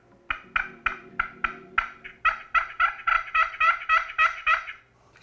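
A Quaker Boy push-button turkey yelper call yelps in a quick rhythmic series of about fifteen sharp, raspy notes, close and clear with no talking.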